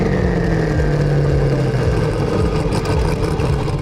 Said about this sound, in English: Just listen to that engine behind us.